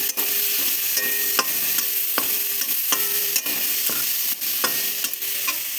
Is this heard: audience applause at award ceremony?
no